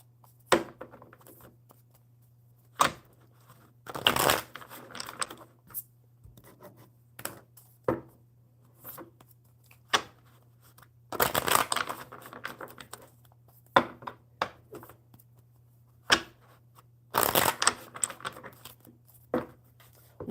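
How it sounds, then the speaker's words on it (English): A deck of tarot cards being shuffled in repeated bursts of riffling and scraping, close and fairly quiet, with short pauses between the shuffles. "One more good shuffle for talk."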